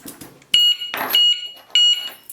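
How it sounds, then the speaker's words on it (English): An Amtech heavy duty alarm padlock gives three sharp, high-pitched beeps evenly spaced about half a second apart as the alarm is set, with faint handling clicks between them. "you'll get 3 beeps to say the alarm is now set."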